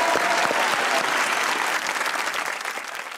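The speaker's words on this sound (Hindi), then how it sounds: "इनके लिए भी तालियां होनी चाहिए।" Studio audience of a Pakistani comedy talk show breaking into loud, dense applause that holds strong and then tapers slightly toward the end, with no voices over it.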